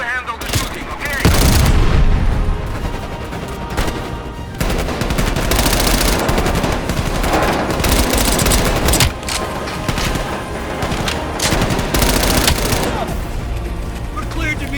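Sustained helicopter door-gun fire from Call of Duty Black Ops Cold War, loud dense bursts of rapid shots with heavy booms and engine roar continuing nearly throughout.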